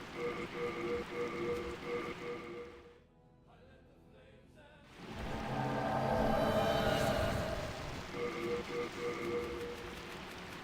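Steady rain falls with an even, continuous patter, briefly dropping away to near quiet before returning heavier and fuller, with no voices.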